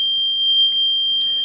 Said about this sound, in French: Il y a un délai en fait au niveau du buzzer.